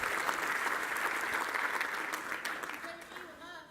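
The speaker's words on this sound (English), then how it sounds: "Give him a big round of applause." Audience applause at a live speaking event: a dense, steady wash of clapping that holds for several seconds and then thins out, with a voice starting to speak as it fades.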